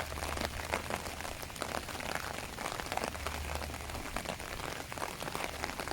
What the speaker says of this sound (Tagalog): So cloudy and it's raining.